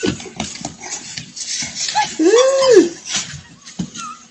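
A dog whimpers once in a short, rising and falling whine, close and clear, under ongoing conversation.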